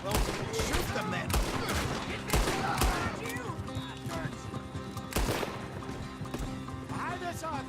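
Rapid gunfire crackles in Red Dead Redemption 2, bursts of shots overlapping with horse hooves and shouting voices in a chaotic shootout, loud and continuous throughout.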